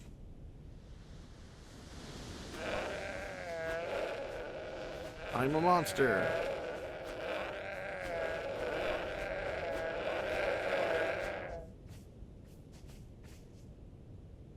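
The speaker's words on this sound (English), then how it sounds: "Oh, we got some goats?" Goats in a survival video game let out a few wavering bleats, one prominent cry in the middle, over soft ocean-and-wind ambience while someone talks.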